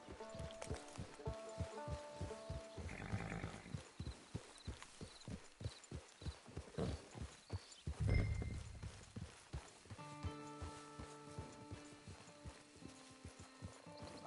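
Steady clip-clop of horse hooves at a walking pace, rhythmic and fairly close, with a game-style musical backdrop humming underneath.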